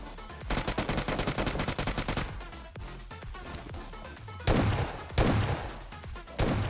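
Shotgun fire in the mobile battle-royale game PUBG Mobile: a dense rapid string of loud blasts, then a pause and three further heavy bursts, close and punchy with no talk over them.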